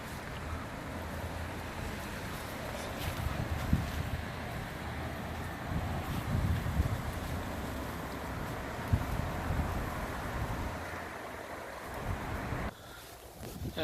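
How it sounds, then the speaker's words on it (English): Strong wind blowing steadily through a tropical fruit garden in Melbourne, a broad rushing roar buffeting the microphone with gusts, dropping away abruptly near the end. "it's really windy today"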